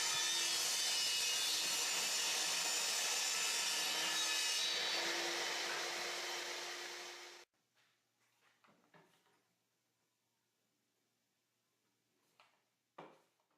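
A table saw blade rips through a wooden block to joint its edge, a loud steady whirring cut lasting several seconds that cuts off sharply, followed by near silence with a few faint clunks and scrapes of wood being handled.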